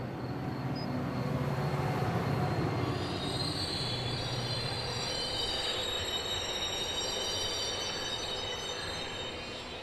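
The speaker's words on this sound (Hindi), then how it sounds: "वो ट्रेन जो चलती थी और रुकती नहीं थी, वो सीधा स्टेशन पर आकर रुकी।" A train rolls in with loud, sustained wheel squeals and rumbling that gradually ease as it slows, no voices present.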